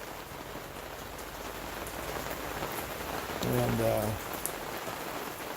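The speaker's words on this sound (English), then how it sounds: "it's raining like hell out here" Heavy rain pours steadily outdoors, a dense continuous hiss on surfaces at a woodworking site with antique window frames, with a brief word spoken and a short low murmur partway through.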